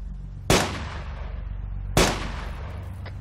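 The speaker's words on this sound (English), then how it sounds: "Stop shooting, you're gonna kill me." Two sharp, loud gunshots ring out in the Arma Takistan Life roleplay game, spaced about a second and a half apart, each with a booming echo tail over a low background rumble.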